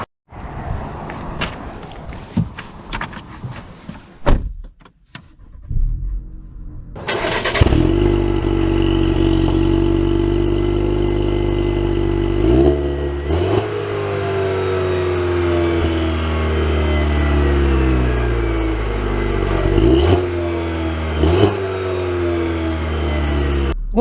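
A 2023 Cadillac CT4-V starts up after some cabin handling noises, then its engine revs and pulls through several rising gear sweeps, loud and close from inside the car, with no talk.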